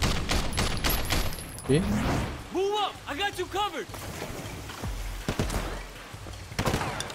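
Rapid gunfire crackles in the action game Sleeping Dogs, with sharp shots and impacts scattered throughout among game effects, while someone speaks briefly over it.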